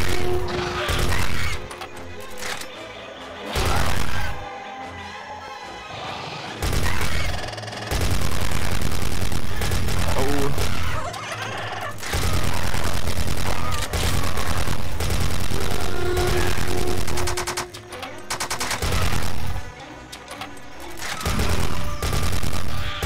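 Rapid bursts of machine-gun fire in the video game Dino Strike, repeated volleys separated by short gaps, loud and close with mechanical clatter between bursts.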